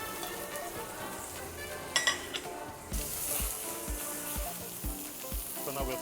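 Mushrooms in olive oil sizzling directly on glowing embers, a steady close frying hiss with a few clinks and light tapping of a utensil as the food is stirred.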